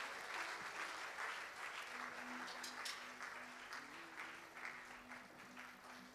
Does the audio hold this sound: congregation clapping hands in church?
yes